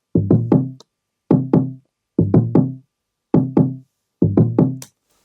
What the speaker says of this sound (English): It's just an 808 kick. I just cut it off so it can sound like a kick